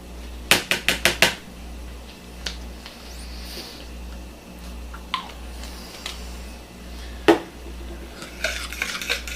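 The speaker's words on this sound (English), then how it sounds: "Stir that together" Quick bread batter with vanilla is stirred in a mixing bowl for an apple loaf, opening with a quick run of sharp utensil clinks against the bowl, then quieter scraping and occasional taps close by.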